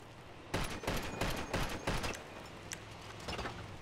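Rapid bursts of gunfire from a shooter video game in a thirty-player manhunt match, clustered volleys of sharp shots for about two seconds, then scattered fainter shots.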